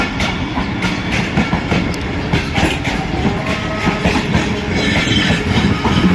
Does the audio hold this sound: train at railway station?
yes